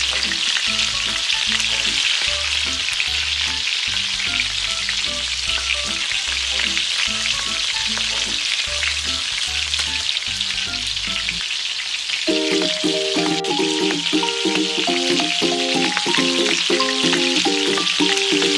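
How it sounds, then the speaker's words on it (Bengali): Banana flower fritters fry in a pan of hot oil, giving a loud, steady sizzle throughout, with music playing underneath. "বড়গুলো ভাজার জন্য সব দিয়ে দিয়েছি"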